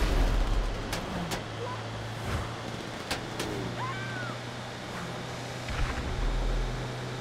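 Grenade blasts in Grand Theft Auto V Online during the Cayo Perico heist on PlayStation 5, heard as several sharp booming bursts with low rumbling tails over a steady engine-like drone, fairly distant and muffled.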